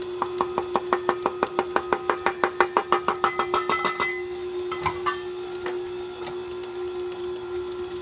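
Stand mixer beating teff flour into a walnut butter raisin cookie batter, a fast rhythmic knocking drone with steady motor hum over about four seconds, then slowing to a lower, looser whir with a brief clatter.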